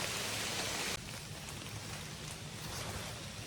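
Rain drips from leaves in the woods as a continuous soft patter, louder for the first second and then a steady, fainter hiss with no voices.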